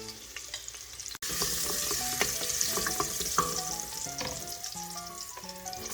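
Onions and ginger garlic paste fry in a hot pan with turmeric, a loud steady sizzle broken by stirring clinks and spoon knocks, after a brief pause near the start.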